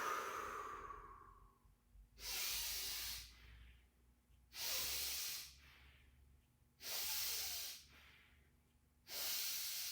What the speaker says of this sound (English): I'm breathing it right out on 3.